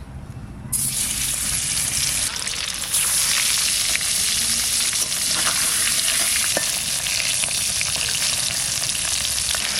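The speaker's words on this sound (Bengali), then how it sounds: "আগে এই মাছটা আমি ভেজে নেব" Loud, steady sizzle of pomfret fish frying in hot oil, starting abruptly and holding a dense crackle throughout, close up, with no voices.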